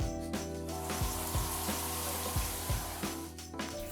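Water spraying from a handheld shower head in a condo bathroom, a continuous broad hiss with bumps and clatter from the fixture being handled.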